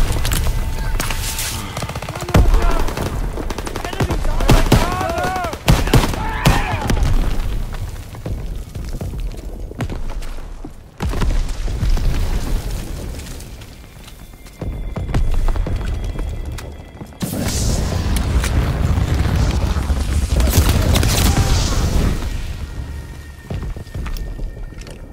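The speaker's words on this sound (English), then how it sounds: "Artillery is hitting the beach!" Artillery and gunfire pound a beach landing in Call of Duty WW2, with heavy booms, rattling automatic fire and loud, continuous battle noise rising and falling in waves, with little talk.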